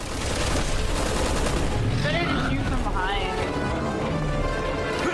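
Rapid, continuous gunfire in Resident Evil 6 forms a loud, unbroken barrage with booming impacts, while voices talk over it throughout.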